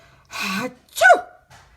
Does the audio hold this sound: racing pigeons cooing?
no